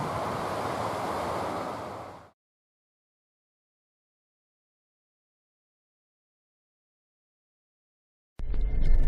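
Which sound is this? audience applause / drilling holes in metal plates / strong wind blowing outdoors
strong wind blowing outdoors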